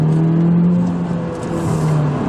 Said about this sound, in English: It still sounds like a VTEC motor.